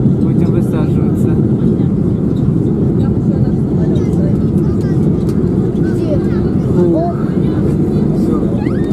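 Steady, loud engine roar fills a passenger airliner cabin as it lands and taxis after a flight to Tunisia, a constant close rumble throughout with faint murmuring voices underneath.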